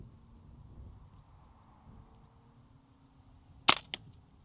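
One sharp gunshot from a shooter kneeling on an outdoor range, loud and close, with a fainter second report a fraction of a second later, after several seconds of quiet ambient noise.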